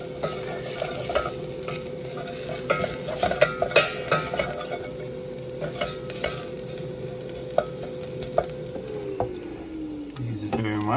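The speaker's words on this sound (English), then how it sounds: "cook down the onions. Also a bit more garam masala" Onions sizzle and fry in a pan with garam masala, stirred steadily so a spoon scrapes and clicks over the continuous crackling hiss, with faint speech-like sounds nearby.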